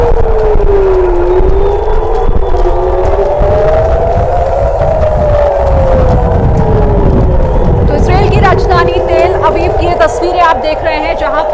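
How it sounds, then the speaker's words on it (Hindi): Air raid alert sirens wail across Israel, rising and falling in long slow sweeps over a loud, rumbling background, with a voice speaking over them and crowd noise. "अलर्ट के सायरन इस वक्त पूरे इजराइल में बजाए जा रहे हैं।"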